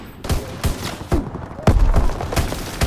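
Trench gun shotgun blasts in Call of Duty WWII team deathmatch, several loud booming shots in quick succession amid surrounding gunfire, close and punchy.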